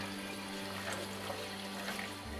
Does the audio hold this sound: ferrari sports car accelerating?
no